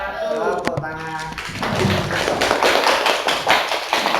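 A classroom group claps together after a presentation, bright overlapping applause building and holding steady at close range, with a few voices talking over the start.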